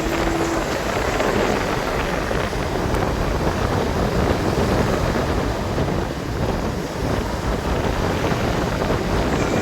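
Strong sea waves and gusting wind roar together at a shore where the sea has reached and swamped a house, forming a loud, dense, continuous wash with no clear breaks.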